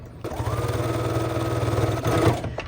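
Sewing machine running steadily while top stitching a fabric key fob about 1/8 inch from the edge, a continuous close mechanical hum with a rapid needle rhythm that stops near the end.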